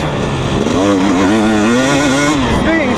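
A 2020 KTM 250 SX two-stroke dirt bike engine revs loudly up close, its pitch climbing and wavering through a continuous buzzing wail.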